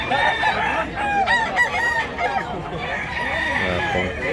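A rooster crows loudly and close, one long rising call over clucking fowl, with chicken chatter continuing after at a market in Mantalongon, Barili, Cebu.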